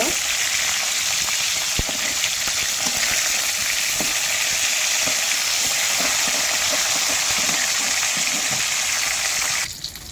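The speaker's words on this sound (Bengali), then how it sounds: "আমার মাছটা এবারে ভাজা হয়ে গিয়েছে।" Fish frying in a pan of oil in a village kitchen, a loud, steady, hissing sizzle that holds close and constant throughout before cutting off abruptly at the end.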